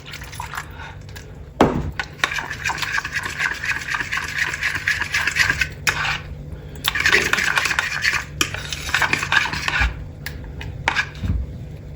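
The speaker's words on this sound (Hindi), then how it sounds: "अब अच्छी तरह इसको हम मिक्स करेंगे कि इसकी गुठलियाँ ना बने" Close, wet scraping and squelching as a spoon stirs thick batter in a bowl, in bursts separated by brief pauses.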